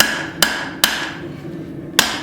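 Three sharp, ringing hammer blows land on hot steel while a tomahawk is forged around a drift, spaced unevenly over a couple of seconds, close and clear.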